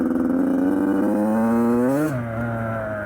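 A 2006 Yamaha YZ85 two-stroke motocross engine revs loudly and steadily with rising pitch, climbing higher before dropping sharply and settling into a lower, rougher idle.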